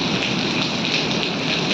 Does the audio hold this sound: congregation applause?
no